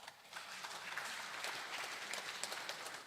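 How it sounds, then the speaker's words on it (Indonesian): Faint, distant applause from the audience at a plenary session marking Maluku Tenggara Regency's 73rd anniversary, a steady wash of clapping heard from far off throughout. "Tepuk tangan."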